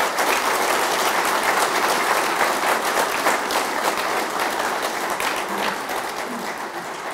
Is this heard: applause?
yes